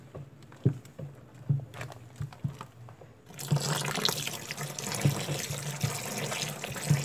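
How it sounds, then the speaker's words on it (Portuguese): Liquid glycerin soap mixture is stirred in a large batch, first with sparse splashy sloshes and knocks, then after about 3 seconds a continuous, louder wet churning and swishing close by. "Sempre mexendo, tá, gente?"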